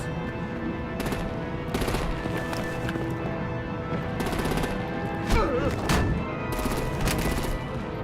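Bursts of gunfire from the video game Batman: The Enemy Within, Season 2 Episode 2, crack out in repeated sharp volleys roughly every second or so over a steady droning background, fairly loud and close, with no clear talk.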